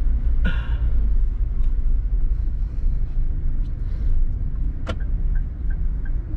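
A car being parked, with a loud steady low engine rumble close by throughout and a couple of brief clicks and knocks, with no talk.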